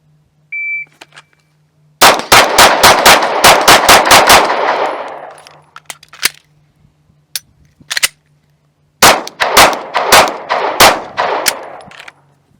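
Pistol shots at a target during shooting practice: one sharp report, then a rapid string of about eight loud, close shots, a few scattered singles, and another fast volley of around seven.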